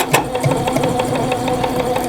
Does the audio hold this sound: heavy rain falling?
no